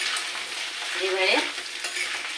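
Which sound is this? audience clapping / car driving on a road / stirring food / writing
stirring food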